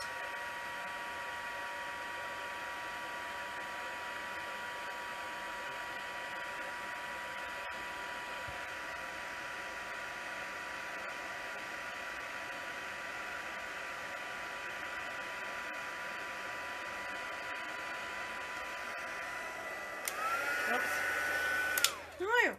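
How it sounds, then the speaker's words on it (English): Crafting heat tool blowing over Brusho and bleach artwork, a steady whirring hum with airy rush held for about twenty seconds, then a brief shift in tone and a clatter near the end. "I'm going to dry that now with the heat tool so that it dries quicker"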